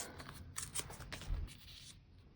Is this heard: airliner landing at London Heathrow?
no